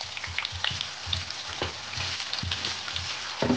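Onion frying in a pan for crushed beans, a soft continuous sizzle with light crackles and small stirring thumps, fairly quiet and close.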